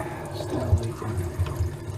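Water leaks from a broken RV water line, a steady close trickle and splashing with low gurgling bumps, with a faint voice in the background.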